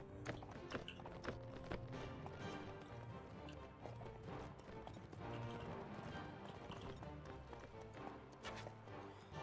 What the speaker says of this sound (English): At least I think I see horses in the distance.